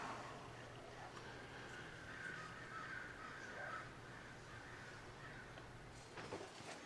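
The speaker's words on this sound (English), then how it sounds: "Seeing if we can beat the shouting birds before they drown me out." Loud crows cawing outdoors in a long, busy chorus of overlapping calls that stays steady throughout, with a low hum of distant traffic underneath and no talking.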